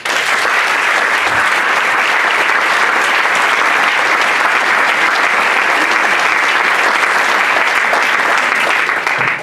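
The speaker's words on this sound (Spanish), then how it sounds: "yo quería que el público os diese un aplauso a todos" Audience at a gastronomy competition awards ceremony applauds the prize-winning restaurant businesses, a steady, dense clapping that fills the room evenly and stays loud from start to finish.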